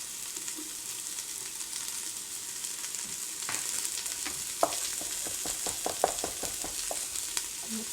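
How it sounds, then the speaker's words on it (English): Tortilla soup ingredients sizzle steadily in a pot on the stove, with a spoon scraping and knocking against the pot in a quick series of close stirring strokes. "Let's give that a stir."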